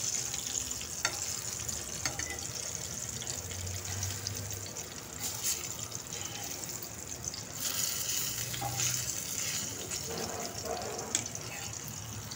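A semolina-coated fish fry sizzles steadily in a pan, a continuous hissing crackle with a few soft clatters as pieces are turned, close and constant throughout.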